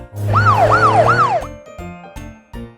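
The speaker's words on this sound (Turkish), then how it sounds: "Bakın çocuklar, o bir polis arabası." Cartoon police car siren in a children's show, a loud wailing tone sweeping up and down three times, then a few short tinkly musical notes.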